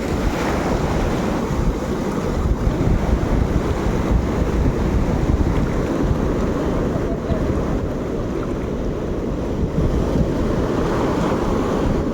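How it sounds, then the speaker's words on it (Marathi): Ocean surf washing steadily against a rocky shore, a constant loud roar with rolling swells and gusty wind buffeting the microphone throughout, no voices heard. "लाटा येत आहेत ना."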